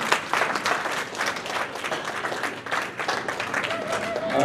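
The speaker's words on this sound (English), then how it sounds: "let's give a round of applause to the parents" A crowd at a youth sports team's year-end gala applauds the parents, steady clapping filling the room throughout at moderate loudness.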